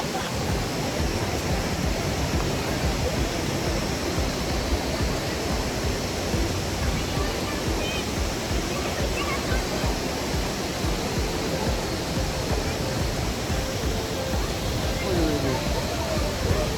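Mohini Jharna waterfall in Makwanpur, Nepal roars with steady, dense rushing water close by, a constant broadband wash with no pauses.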